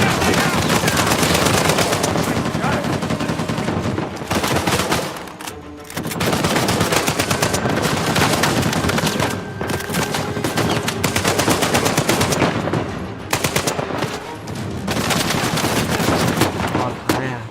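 Sustained, loud automatic fire from a turret machine gun in the video game Uncharted 4, hammering almost continuously with brief pauses between bursts, with a voice faintly present underneath.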